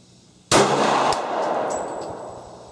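A single loud pistol shot at an outdoor shooting range bangs close by, followed by a long reverberating tail that fades slowly; the handguns include a Boberg XR9-S, Colt 1911, CZ82, Glock 19 and P-64.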